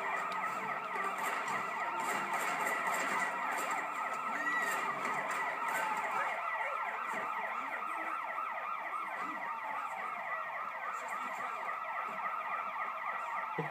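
Police sirens wail continuously in the Sleeping Dogs video game, a steady wavering tone that stays loud and close for the whole stretch with no talk over it.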